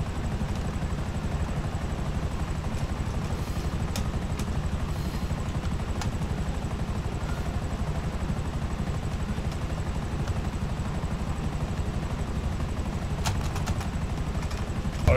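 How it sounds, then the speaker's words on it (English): In the GTA 5 Online video game, a Buzzard helicopter flies with a steady, dense rotor thrum and engine whine that holds constant and fairly loud throughout. "what if I call in another helicopter? Right, because that means the ability to Buzzard May."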